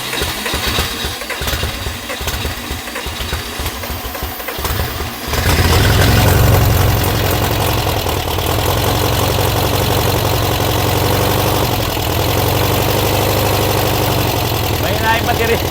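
A car engine, newly fitted with a replacement battery, cranks and catches about five seconds in, then settles into a steady, loud, close idle. Voices talk over the cranking and the running engine.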